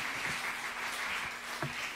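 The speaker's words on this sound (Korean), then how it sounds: "설교 전에 박수 받기는 처음입니다" A church congregation applauds just before a sermon, a steady wash of many hands clapping together at moderate volume for the full two seconds, with no voices rising above it.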